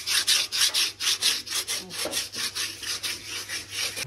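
Rhythmic back-and-forth scrubbing strokes rasp across a Lambretta scooter body as paint remover is worked off, about four strokes a second, close and steady throughout.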